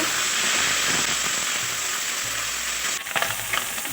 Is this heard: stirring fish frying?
yes